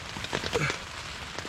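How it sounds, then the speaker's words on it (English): Steady rain patters on a leaky tent overnight during a rainy spring camping trip, a soft continuous hiss with scattered drop taps, fairly close and moderate in level, with no voices. "It's still pretty rainy out there."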